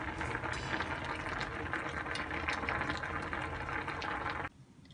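Cabbage, mushroom and egg porridge simmering in a pot, a steady close bubbling hiss that cuts off abruptly near the end.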